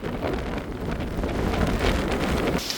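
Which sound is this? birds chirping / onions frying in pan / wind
wind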